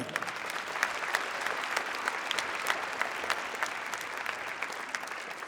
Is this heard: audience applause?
yes